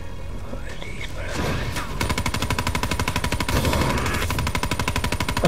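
Rapid sustained machine-gun fire from Call of Duty Black Ops 3, a steady automatic burst that runs for several seconds after a few scattered shots, loud and close.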